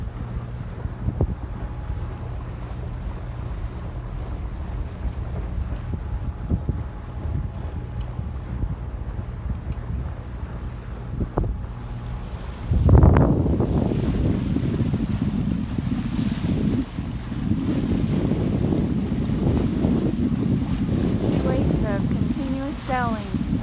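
Sailboat heading out of Port Townsend, Washington, with steady wind noise and water rushing against the hull, growing louder and busier about halfway through as waves pick up; faint voices underneath.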